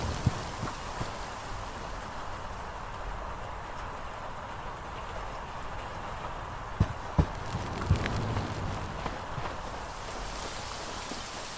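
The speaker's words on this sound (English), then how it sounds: "The rain pouring down and hitting the ground, the wind blowing strong and rustling the leaves and grass, the thunder echoing in the sky" Steady rain pouring and pattering on the ground in the game Hytale, with wind rustling leaves and grass, a dense continuous hiss at moderate level broken by a few brief sharp knocks near the middle.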